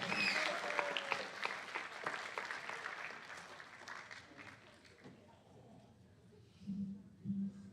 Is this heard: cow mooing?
no